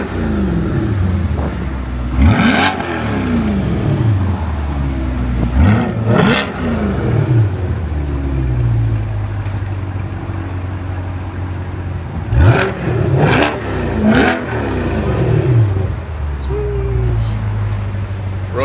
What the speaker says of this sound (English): Wait. Yeah, rev it.